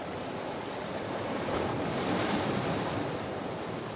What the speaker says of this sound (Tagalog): Grabe lakas mo ng alon.